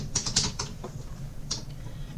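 Keys clatter on a computer keyboard as SQL code is typed, a quick burst of close clicks followed by a pause and a few more isolated keystrokes.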